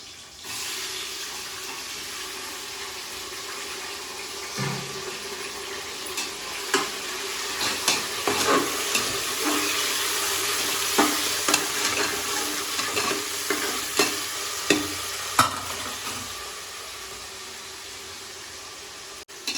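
Tomatoes fry in a pan with a steady hiss that grows louder partway through, joined by irregular spatula scrapes and knocks as they are stirred, close and with no talking.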